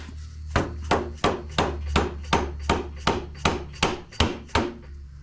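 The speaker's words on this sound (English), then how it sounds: "Not using the hammer, guys. I'm using this mallet here." A mallet strikes a part again and again while a 1973–77 A-body Buick Regal sunroof is assembled, giving about eleven evenly spaced, solid knocks, close and loud.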